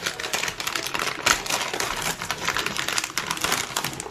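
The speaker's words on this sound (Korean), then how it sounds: "뜯어볼게요" Food package, probably a vacuum-sealed steak, being torn open by hand in a kitchen: dense rustling and crinkling of plastic wrap with quick tearing bursts, close and continuous for a few seconds.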